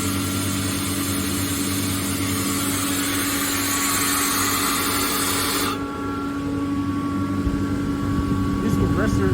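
A 2004 Kaeser screw air compressor runs and loads in an industrial setting, giving a loud, steady broadband roar with mechanical hum that drops to a quieter idle-like tone partway through.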